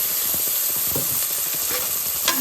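Steady oily sizzling of masala frying in a little oil fills the whole stretch, with faint scraping and stirring clicks over it; close and continuous.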